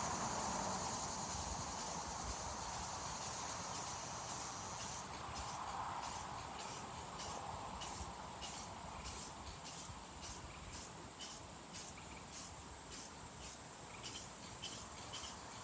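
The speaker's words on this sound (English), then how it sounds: "All right, shake up my Rust-Oleum metallic. This is more like an aluminum finish." A Rust-Oleum metallic aluminum-finish spray paint can is shaken and sprayed, giving a steady rhythmic rattle of strokes over a continuous airy hiss, fairly quiet throughout.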